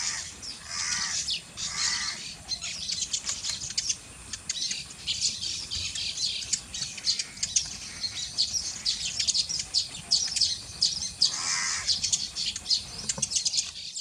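Baya weavers (Ploceus philippinus) give advertising calls, a busy outdoor mix of buzzy chirps and squawks repeating in clusters, with a few louder bursts standing out against faint insect noise.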